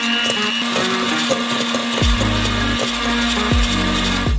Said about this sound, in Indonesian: Kita kocok dengan mixer sampai menjadi busa yang subur.